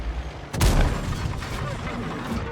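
Artillery shell impact in World of Tanks, a single sharp boom followed by a rumbling decay, with a voice talking over it.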